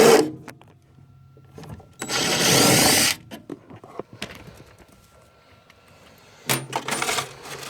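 Screws are being taken off a Goodman furnace panel, with scattered metallic clinks and taps, a loud two-second burst of rasping noise, then more clattering near the end.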